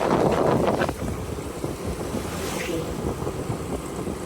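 Steady wind rushes and buffets the microphone throughout a motorbike ride, loud and continuous, with a heavier gust in the first second and no clear engine note.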